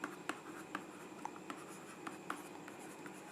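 Pen writing a question by hand on paper, quiet close scratching strokes with small taps at irregular intervals, no talking.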